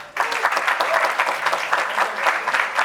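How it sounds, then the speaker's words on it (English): Dense, steady applause from a crowd at the SRK Fandom Awards, greeting a Twitter fan nominee; loud, continuous clapping fills the whole stretch with no break. "Please a round of applause for him."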